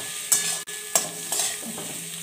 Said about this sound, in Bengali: আলুটা খুব ভালো করে আমার নাড়াচাড়া করা হয়ে গেছে